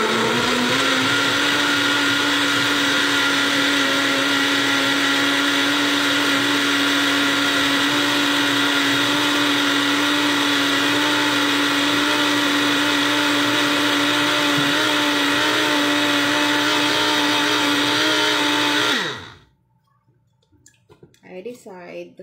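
An electric blender whirs steadily and loudly for nearly twenty seconds, blending banana and milk into a shake, then winds down abruptly and stops, leaving quieter handling sounds.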